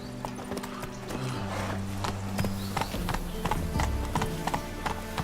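Roach, the horse in The Witcher 3: Wild Hunt, gallops with steady, close clip-clop hoofbeats over a bed of game music and ambience, with a short whinny-like burst near the middle.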